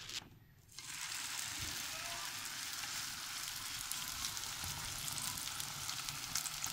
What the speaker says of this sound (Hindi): तवे पे थोड़ा सा घी डाल लें, मैं देसी घी यूज़ कर रही हूँ, और इसको अब नरम से हाथों से आप तवे पे डाल देंगे